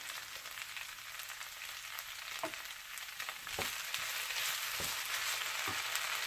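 Flour cooks in a hot pan for smothered steak with peppers and onions, a steady, fairly quiet sizzle with a few light utensil taps.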